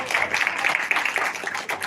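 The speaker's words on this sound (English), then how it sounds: "So let us give them a round of applause." A seminar audience claps in a steady round of applause, dense hand claps filling the room at moderate distance without pause.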